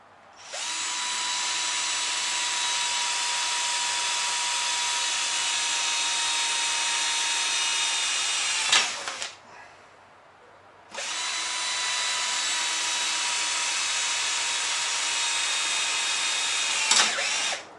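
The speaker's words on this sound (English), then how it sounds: "need a bigger drill bit" Electric drill boring holes while fitting kayak steering, two long steady whining runs of about eight seconds each separated by a brief pause, loud and close with no talk over them.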